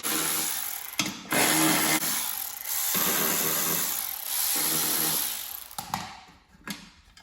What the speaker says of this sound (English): I'm gonna take one off to show you. You need an 8mm socket.